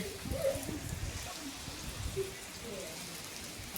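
Steady rain patters on surfaces outdoors in a windy village setting, a constant wash with pigeons cooing faintly and murmured voices in the background.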